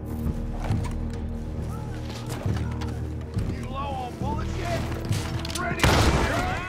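Enemy gunfire in Red Dead Redemption 2 cracks out in scattered shots and bursts among in-game noise, with horse hooves and a louder blast near the end, while someone talks over it.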